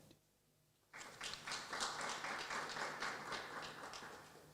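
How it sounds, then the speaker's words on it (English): Applause from a graduation ceremony audience breaks out abruptly after a second of quiet, many hands clapping steadily and fairly loudly until the end. "you deserve a round of applause, so give yourselves a hand."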